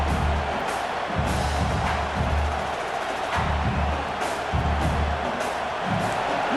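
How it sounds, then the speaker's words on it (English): A packed stadium crowd at a USC at Texas A&M college football playoff game roars continuously, a dense, distant wash of cheering with a low rumbling pulse throughout. "Listen to the crowd energy here in the early going."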